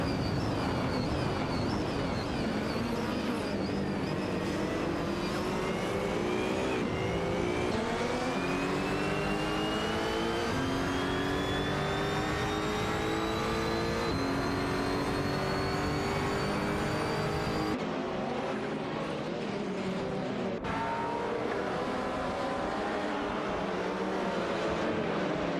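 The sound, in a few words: race cars racing in a video game, Aston Martin Vantage GT4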